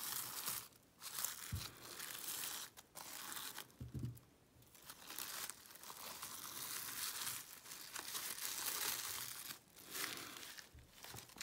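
Thin plastic is peeled away from a molded form, producing soft crinkling and tearing rustles in several bursts with brief pauses, quiet and close with no talking.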